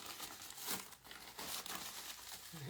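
Recycled paper towels are crumpled and crinkled by hand in a casting workshop, giving a dense, continuous rustling close to the microphone for a few seconds with no talking.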